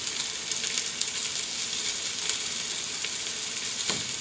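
Potatoes frying in a pan on a stove, a steady dense sizzle with occasional faint pops and stirring scrapes throughout, no talking.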